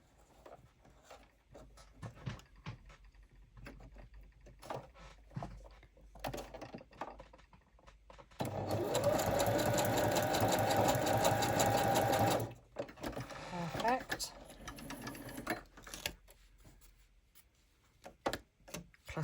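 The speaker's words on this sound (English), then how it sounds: "I think I'm going to do some stitching just down the sides." A sewing machine stitching down the sides of a junk journal with vintage-photo-coloured thread runs steadily for about four seconds, loud and close, between quieter paper handling and rustling.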